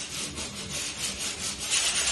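Rhythmic back-and-forth rasp of 80-grit sandpaper worked by hand over the body of a 1973 Dodge Charger, close and steady with pressure building toward the end, no voices.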